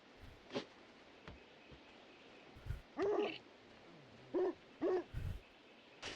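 Several short dog barks and yelps from a dog in the video game Trash Day, spaced irregularly over quiet background ambience, fairly close and moderately loud.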